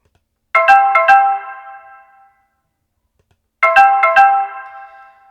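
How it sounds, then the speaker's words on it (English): A UniFi AI Horn Speaker plays its test tone twice, a loud bright chime-like burst of quick ringing notes, each followed by a short decay, separated by about three seconds of silence. "We've got this speaker test, so let's test it."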